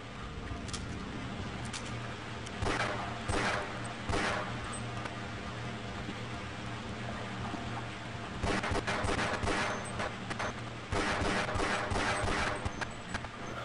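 Rapid bursts of automatic gunfire from a weapon in the Half-Life video game, fired in several clusters over a steady low game-music hum, with no one talking.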